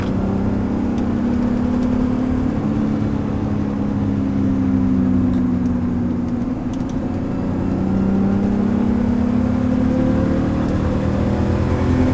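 A 33-year-old BMW E30 with a swapped-in manual transmission drives and accelerates, its engine note climbing and easing in long sweeps, loud and close, with steady road noise beneath.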